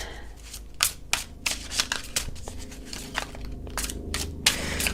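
Tarot cards are shuffled in a steady run of soft riffles and slaps, with sharper card snaps standing out among the continuous papery flutter, close and alone with no talking.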